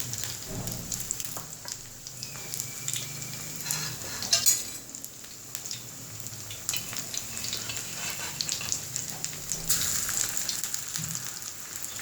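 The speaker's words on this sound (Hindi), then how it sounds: "ये देखिए मैं फ्राई हो गए हैं ये कबाब, बहुत क्रिस्पी और बहुत मज़ेदार" Poha kebabs frying in hot oil produce a steady, close sizzle with occasional utensil clinks throughout, and no one speaks.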